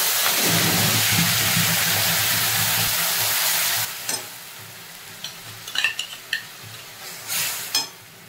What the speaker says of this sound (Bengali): গ্যাসটা কমিয়ে এবার ভালো করে ভেজে নেব।